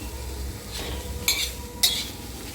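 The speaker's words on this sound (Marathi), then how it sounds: "कांदा पहिला आपण फर्स्ट भाजून घेणार आहोत तेल टाकत आहोत" Chopped onion frying in oil on a tava for raw mango chutney, a soft steady sizzle broken by two sharp scrapes of a spoon against the pan.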